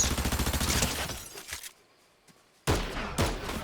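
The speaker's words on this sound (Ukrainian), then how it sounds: "в нас стріляють ззаду, а ти стоїш" Rapid bursts of automatic gunfire in the Fortnite battle royale video game, a fast rattling volley up front, a short lull with faint sounds, then another loud burst of shots.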